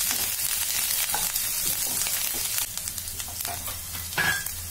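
Garlic and green chillies frying lightly in a pan, a close, steady sizzle with occasional sharp crackles and a soft scrape of stirring, alone without any talk.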